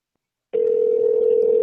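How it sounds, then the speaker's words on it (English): A telephone on an outgoing call during a live radio broadcast gives a steady, loud ringback tone that starts abruptly after a brief silence and holds unbroken to the end, with no talk over it. "It rang more than twice this time."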